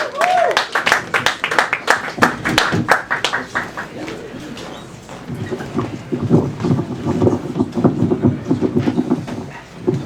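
An open mic audience applauds a poet, with a burst of loud clapping at the start that eases off, then scattered, softer claps and crowd murmur.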